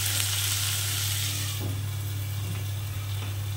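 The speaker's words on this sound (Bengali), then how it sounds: "ফুলকপিগুলো হালকা হালকা যখন রং ধরবে, আমি আলুগুলোও দিয়ে দেবো।" Cauliflower florets and potatoes sauté under a lid in a covered pan, giving a constant, close, dense sizzling hiss with no pauses.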